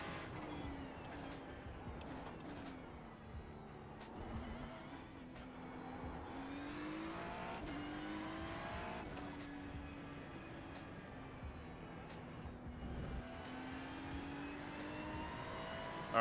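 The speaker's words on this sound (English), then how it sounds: "The car that I'm driving currently is the new Ferrari." A Ferrari 296 engine in a racing simulator game revs up and down through repeated gear changes, its pitch climbing and dropping in steady cycles at a fairly quiet level, with no one talking.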